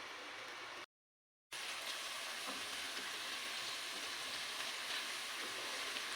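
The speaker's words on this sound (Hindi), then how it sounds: "इसको कब तक हमने फ्राई करना है, जब तक इसके ऊपर ब्राउन कलर नहीं आ जाता" Pieces of arvi (taro root) frying in a pan until golden brown give a steady, moderately loud sizzle, broken by a short silent gap, with faint stirring underneath and no voices.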